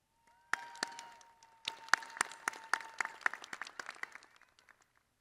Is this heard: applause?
yes